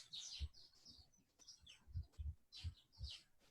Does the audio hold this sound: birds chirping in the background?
yes